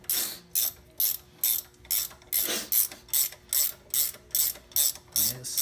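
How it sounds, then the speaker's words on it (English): Ratchet wrench tightening a front brake caliper bolt on a GMC Jimmy 4x4, a close, even series of about a dozen sharp clicking strokes in steady rhythm. "Just gonna tighten her down with my ratchet wrench."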